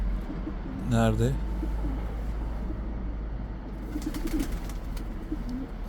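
A painted roller pigeon coos in low, soft repeated notes, with a person speaking briefly and faint background noise throughout.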